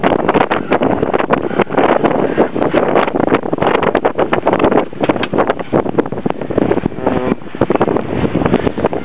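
Heavy wind buffets a sailboat heading into it at about 6 knots, a loud continuous roar with gusty bursts and rustling flaps throughout, up close and steady.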